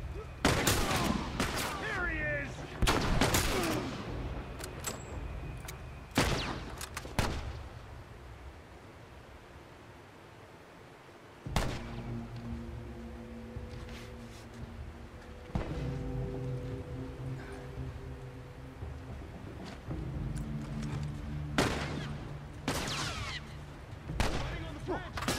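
Sniper and gunfire sounds from The Last of Us gameplay: several sharp, loud shots early on, then scattered cracks over a steady game soundscape and background tones, with a player talking at times.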